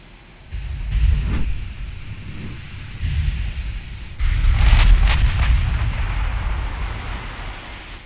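Naval gunfire and heavy shell hits from the warship battle game Ultimate Admiral Dreadnoughts: low booming blasts around one and three seconds, then a louder, sustained rumbling impact from about four seconds that slowly fades, with no talk.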